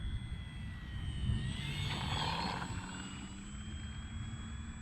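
A Glastar V2 RC plane, about 1.5 meters in wingspan, drones overhead with a steady electric motor whine and a faint shifting pitch, distant and continuous.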